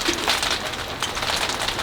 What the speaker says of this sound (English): Nice, a little bit of hail in the meantime.